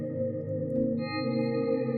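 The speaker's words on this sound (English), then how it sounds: "So, granular, reverb, and tape echo is" Arturia Fragments FX processing a sine-wave synth with granular, reverb and tape echo effects, giving a sustained, shimmering tonal drone with layered repeats and a brighter tone entering midway.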